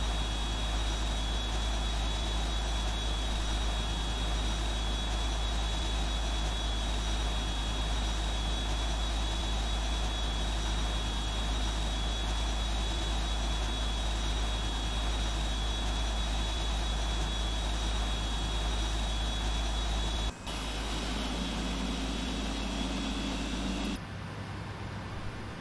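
Engine 4 of a Boeing 747-8 starts up in Flight Simulator X during departure from Dulles, Virginia, a loud, continuous turbine whine and low rumble that holds steady before changing abruptly near the end.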